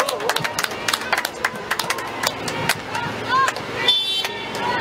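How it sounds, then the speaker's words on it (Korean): Crowd at an outdoor political campaign rally in Namyangju: scattered clapping and bursts of cheering with a loudspeaker-amplified voice over them, lively and moderately close. "박수로 환영해 주십시오."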